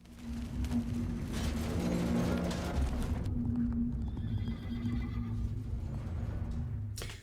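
A horse in the film Nope whinnies loudly up close over quick clip-clopping hooves, then gallops off at full sprint, the hoofbeats carrying on under a lower rumble.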